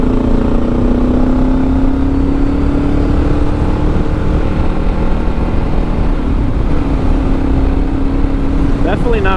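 A Kawasaki KLR 650 single-cylinder motorcycle engine drones steadily while riding, a low continuous thumping hum with wind rumble and a slowly rising pitch, loud and close throughout.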